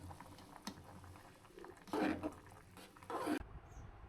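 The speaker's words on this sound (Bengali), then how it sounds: "বলক করতেছে।" Liquid boils in a pot, quiet bubbling with a few louder gurgling surges before it cuts off to near silence at the end.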